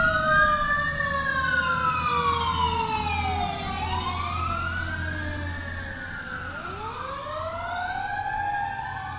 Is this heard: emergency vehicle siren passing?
yes